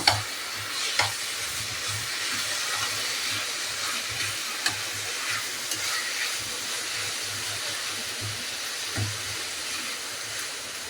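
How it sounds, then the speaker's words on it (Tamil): Tomatoes sautéing in oil in a pan for a homemade sandwich filling, a constant soft sizzle and hiss with occasional spatula taps and scrapes, close up and without voices. "தக்காளி கொஞ்சம் வதக்கட்டும்"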